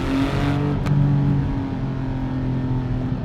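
A Porsche 718 GT4 with PDK gearbox driving, its engine droning steadily from inside the cabin with a brief rise in pitch under acceleration, loud and continuous.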